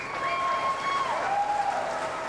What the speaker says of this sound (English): Crowd appreciative of a very good rack at a tough time.